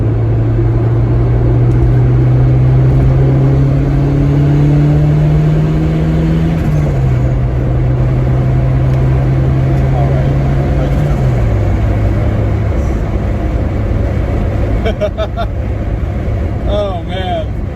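Turbocharged Honda Civic making a part-throttle pull in third gear, steady engine drone rising in pitch with a couple of shifts, loud and close from inside the car, with some talk over it.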